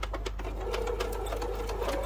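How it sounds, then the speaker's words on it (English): Sewing machine stitching quilt block triangles with a quarter-inch seam, a steady continuous mechanical whir running close and loud through the whole stretch. "just let it feed through the sewing machine"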